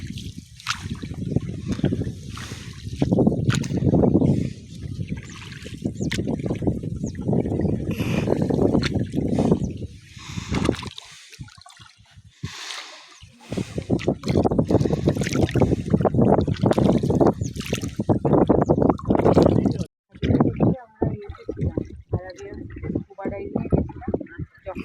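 A speed boat roars across Loktak Lake, rocking side to side as water splashes in, with loud continuous engine and hull rush, wind buffeting and a brief dip midway.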